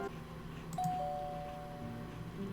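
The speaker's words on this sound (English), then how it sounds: "A doorbell!" A doorbell chimes in the horror video game Amnesia, a single bright electronic tone that rings out and lingers over a quiet indoor game ambience.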